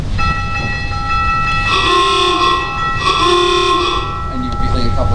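Theatre organ imitating passing trams, sustained chords with a steady organ drone and two swelling, horn-like chord bursts in the middle, loud and close.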